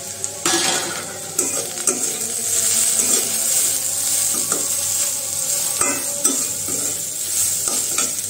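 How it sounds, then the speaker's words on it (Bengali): Fish fries in a pan with a steady sizzle, broken by several sharp scrapes and clinks as a utensil stirs against the metal. Nobody speaks. "এখানে মাছটাও ভেজে নিচ্ছি"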